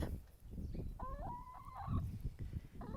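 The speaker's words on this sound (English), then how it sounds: "We've got Daisy Hen and Bluebell Hen." A hen on a croft on Fair Isle lets out one short, warbling cluck partway through, heard amid steady outdoor rumble and wind.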